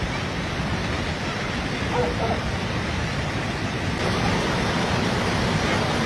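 Floodwater rushes through farm fields and into a cattle shed during a flood in the Pabau block, a loud, steady roar of moving water that holds unbroken throughout.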